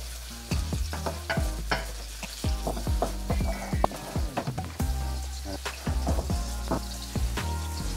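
Onion frying in cooking oil in a pan over medium heat, a steady close sizzle broken by repeated scraping and stirring clatters throughout.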